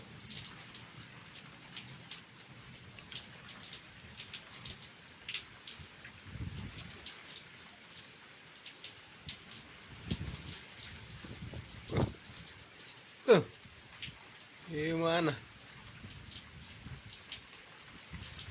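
Rain falling after two hot days, a steady soft patter throughout with scattered sharper drips and knocks, and a brief voice breaking in near the middle.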